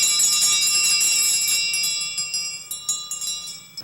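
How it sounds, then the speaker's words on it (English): Bells on mules jingle and clang in a bright, busy cluster that gradually thins into scattered separate rings as the animals run off, fairly close and with no talk over it. "The bells we put on the mules at night, because that way you could tell if the mules were going up the canal or down the canal."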